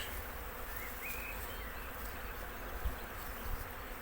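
Honeybees fly at the entrance of a hive, giving a steady, dense buzzing hum that stays constant throughout, close and even, with no voices.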